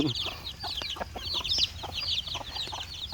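Several chickens cluck and chatter close by in a busy, continuous stream of short calls, with no talking.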